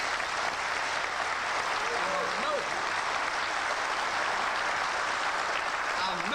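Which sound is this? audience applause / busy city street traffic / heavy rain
audience applause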